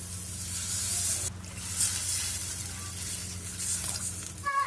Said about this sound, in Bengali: মশলাটা ভাজা ভাজা হয়ে গেছে আমি দিয়ে দিচ্ছি এটাতে জল